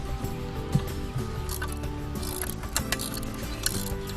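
A ratchet tightens an aerial accessory mount with rapid, close pawl clicks and mechanical ticking over a few seconds, ending in short bursts with a low background hum.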